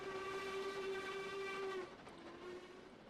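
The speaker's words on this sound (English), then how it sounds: "Just seeing the train climb up the hill." A train on the Highland Valley Railway route in a train simulator climbs a hill, sounding a steady tonal whistle or horn for about two seconds that then drops lower and fades over a rumbling background.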